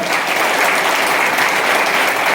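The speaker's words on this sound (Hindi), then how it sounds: "जोरदार ताली होनी चाहिए दोस्तों" Loud, sustained applause fills a hall at a Highrich business meeting, a continuous wash of many hands clapping without pause or speech.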